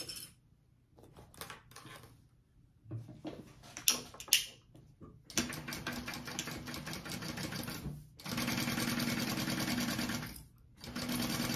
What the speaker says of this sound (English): I'm going to sew those at my seam allowance